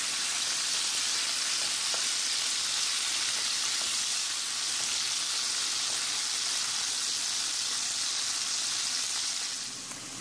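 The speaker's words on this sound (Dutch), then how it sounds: "Dan ga ik mijn kip hierin bakken." Chicken sizzles and crackles steadily in hot bacon fat, a dense, bright hiss with small popping spatters, continuous and close.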